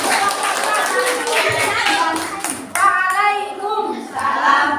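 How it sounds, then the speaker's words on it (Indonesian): A classroom group of teachers claps for the presenting group after an ecosystem-balance presentation, a brisk rattle of hands that pauses briefly and resumes, with people talking over it. "Tepuk tangan untuk yang semuanya"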